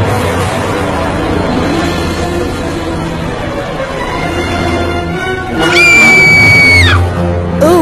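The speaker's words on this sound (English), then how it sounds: "started screaming again" A person lets out a long, loud scream that rises sharply over a noisy background of babble and ambient rumble, then cuts off abruptly.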